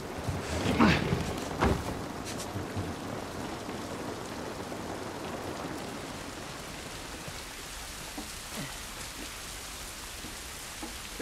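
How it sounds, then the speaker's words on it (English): Steady rain pours outside in the video game The Last of Us, a dense hiss of drops on surfaces filling the scene, louder at first with a brief crackle, then settling into a continuous even patter. "This rain ain't gonna do us any good."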